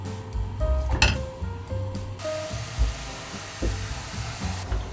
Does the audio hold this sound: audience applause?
no